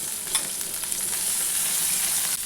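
Dry fish frying with onions in a pan, a bright, dense sizzle with a few soft stirring scrapes, close and steady.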